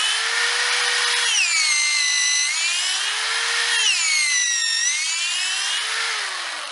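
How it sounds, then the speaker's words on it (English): A Black & Decker 3/8 inch corded drill bores into a tree stump, its whining motor repeatedly dipping and rising in pitch as the bit bites into the wood. The drilling is loud and close, with no talking. "we had to switch out to our Black & Decker 3/8 inch corded drill"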